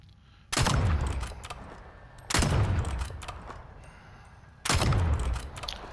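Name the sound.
Strider 300 gun firing in a video game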